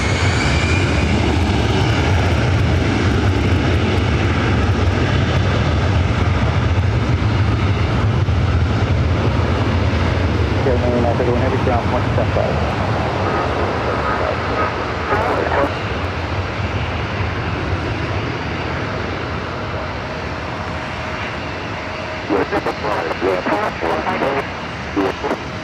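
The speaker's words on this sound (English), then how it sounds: "Next arrival, American Airlines Flight 26, coming up from Tokyo, Haneda, 787-8 Dreamliner." An American Airlines Boeing 787-8 Dreamliner arriving from Tokyo Haneda at Los Angeles airport gives off a loud engine roar that slowly fades over about twenty-five seconds. Voices talk over the drone in the later part.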